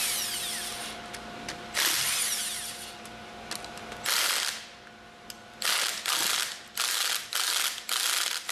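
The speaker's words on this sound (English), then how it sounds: "Use the impact wrench to loosen the remaining bolts in the order demonstrated." Impact wrench loosening the manifold bolts on a General Pump piston pump, heard as several short, loud rattling bursts separated by pauses, with ratcheting clicks between them and no talking.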